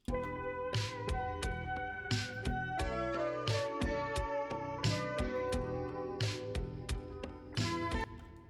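A bright, busy synth pattern plays with a spacious reverb tail smoothing the gaps between rhythmic hits, fairly quiet overall.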